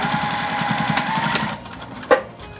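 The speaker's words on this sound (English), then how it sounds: "sew straight across the seam here" A sewing machine stitches straight across a seam on a fabric bag, a rapid rhythmic close chatter of the needle for about a second and a half, then it stops, followed by a quiet handling click.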